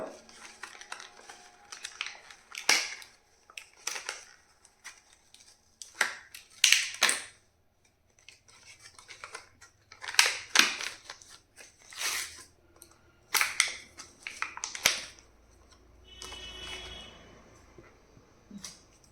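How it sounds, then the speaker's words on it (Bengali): A kids' toothbrush with a rubber grip and tongue cleaner is pulled from its packaging, giving a run of close, irregular crinkling, tearing and snapping bursts of plastic and cardboard with brief pauses between them. "তো চলো এবার ব্রাশটাকে এটাকে আনপ্যাক করে দেখি।"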